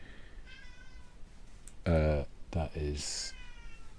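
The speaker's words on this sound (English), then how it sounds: "like my mate's cat trying to get my attention" A cat meows for attention in a couple of close, drawn-out calls, with a person speaking briefly just before.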